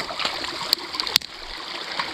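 Water flows steadily out of a deep pond, a soft continuous trickle and gurgle with a few brief splashes close by.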